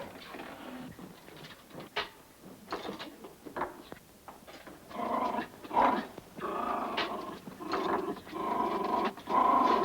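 A dog in a 1944 farmhouse kitchen gives low, rumbling growls in uneven bursts, close and fairly quiet, with faint clatter around it and no talking.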